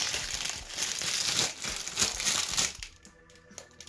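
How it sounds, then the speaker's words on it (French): A purple and white stress toy comes out of its plastic packaging with loud, close crinkling and crumpling for several seconds, then the rustle dies away to a few faint handling sounds. "Donc pour l'autre, je vais la déballer."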